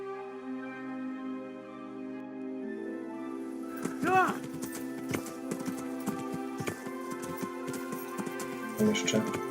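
Hooves of a stolen horse clip-clop in the medieval video game Kingdom Come: Deliverance, a steady trotting rhythm under game music with someone talking over it.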